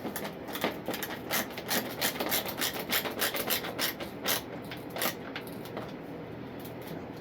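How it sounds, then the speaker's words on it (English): A ratcheting screwdriver snugging a screw into a plastic RC model airplane (Kavan Bristell B23), giving a rapid run of close, dry clicks and rasps in uneven bursts with no talk. "This is a ratcheting screwdriver."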